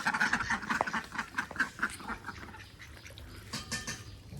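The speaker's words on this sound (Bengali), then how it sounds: "হাঁসগুলা দেখতে পাচ্ছেন বড় হয়ে গেছে" Several ducks quack repeatedly in quick, overlapping calls at moderate distance, thinning out to fainter scattered quacks.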